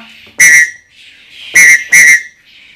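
Three piercing whistle blasts, the last two quick together, blown close and loud with a faint lingering tone between them.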